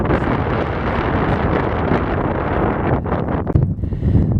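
Strong wind roars continuously against the microphone on an Alaskan mountain at about 3,840 feet, heavy buffeting that eases slightly near the end, with no voices.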